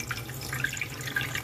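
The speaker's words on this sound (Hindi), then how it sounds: "ठेकुआ बनाने के लिए सबसे पहले हम लेंगे एक बर्तन और उसमें डालेंगे पानी" Water running from a tap into a cooking pot in a home kitchen while preparing thekua sweets, a steady close splashing stream with small bright drips throughout.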